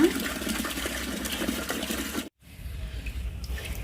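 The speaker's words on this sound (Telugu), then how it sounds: "ఇలా నీళ్లు పోయగానే ఇలా పొల్లు అంతా పైకి వచ్చేస్తుంది కదండి" Water pouring onto rice in a vessel to rinse off husk, a steady splashing gush at close range that stops abruptly for a moment, then resumes more softly.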